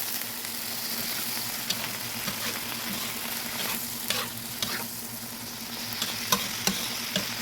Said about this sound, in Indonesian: Dan sekarang akan saya kasih sedikit air ya, biar sedikit ada kuahnya.